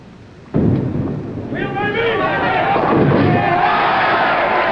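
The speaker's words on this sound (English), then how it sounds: "A 4-bagger and the lead for Mike-Limongello." A bowling ball crashing into the pins for a strike at a 1969 professional bowling championship: a sudden loud clatter of pins, then a swelling crowd roar and cheering that carries on to the end.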